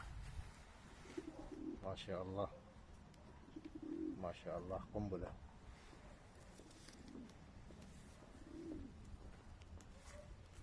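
A racing pigeon gives soft, repeated coos in two or three close bursts. The calls are near and fairly quiet, and someone speaks over and between them.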